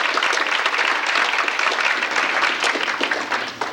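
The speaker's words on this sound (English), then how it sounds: "So I think we all owe Mike a big round of applause." Steady applause from guests at a senior soccer banquet honouring the coach, Mike, a continuous wash of many hands clapping indoors with no voices over it.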